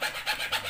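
Short back-and-forth rasping strokes of a small saw blade fitted to a utility cutter knife, cutting small material such as PVC pipe or wood; two or three quick rhythmic passes, close and fairly quiet, with no talking.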